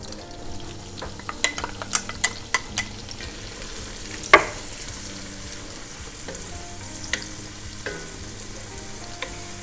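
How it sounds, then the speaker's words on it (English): Leeks sizzle in melted butter in a pan, a soft, low-level frying hiss punctuated by a quick burst of utensil clicks early on and a few later scrapes, with no speech. "Okay, I'm going to add the leeks."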